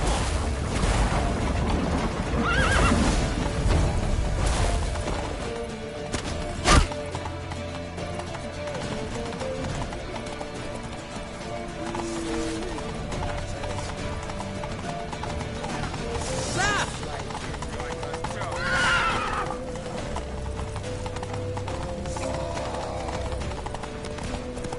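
Horses gallop in a fantasy game scene, a steady run of hoofbeats under shouted voices, with a sharp thump partway through and occasional whinnies rising over the continuous rush of movement.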